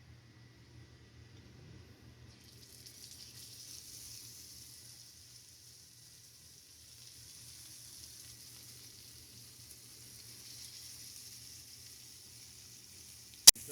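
Chuck eye and Denver steaks sear in smoking-hot melted tallow, giving a steady, moderate hiss and crackle that rises and falls slightly, with a sharp click near the end.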